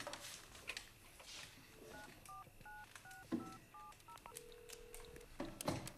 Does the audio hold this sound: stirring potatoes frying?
no